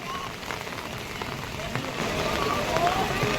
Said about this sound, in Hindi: सुबह 3 बजे से यह बारिश लगातार ऐसे ही हो रही है